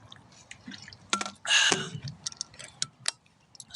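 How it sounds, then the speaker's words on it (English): Water being drunk from a water bottle up close, with small drips, taps and a brief gulping splash of liquid amid quiet room noise, no talking. "let me get a drink of water"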